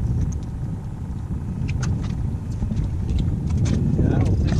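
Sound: boat motor running

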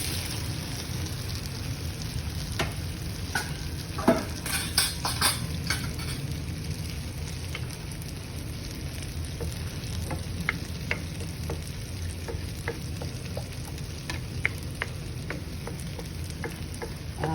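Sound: eggs added to sautéed eggplant frying in a pan

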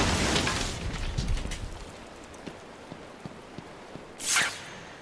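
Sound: controlled explosion in a video game

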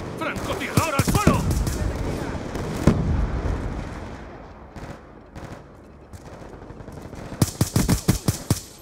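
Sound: gunfire in Call of Duty Black Ops 2 video game

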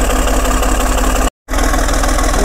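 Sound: Caterpillar RD6 bulldozer engine running

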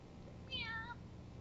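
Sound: cat meowing in video game Time Hollow

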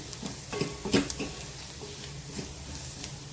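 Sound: spices and coriander powder sautéed in oil

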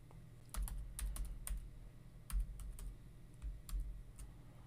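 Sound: typing a password on a computer keyboard

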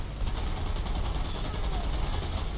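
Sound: machine gun fire in video game

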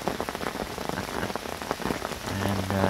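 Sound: heavy rain

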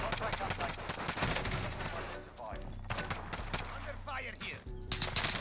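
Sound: LMG machine gun fire in Call of Duty Warzone video game

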